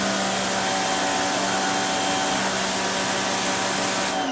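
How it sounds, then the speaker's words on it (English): A Greenworks electric pressure washer runs with a steady, loud, whining hum and a faint tonal drone, cutting off abruptly at the very end. "so this is a different pressure washer"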